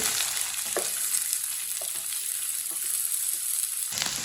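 Okra (bhindi) sizzling steadily as it fries in a pan for masala bhindi, a continuous crackling hiss with a few soft stirring clinks, close and alone without talk.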